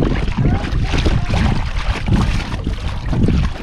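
Bixpy Jet motor pushing a cheap Amazon kayak, an Intext Challenger K1, at full speed, a continuous rushing churn of water and wind buffeting close to the microphone.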